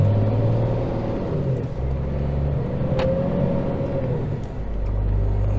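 A long-haul semi truck pulling off, heard from the cab with a steady, loud low engine rumble and road noise throughout, plus a brief sharp hiss near the middle.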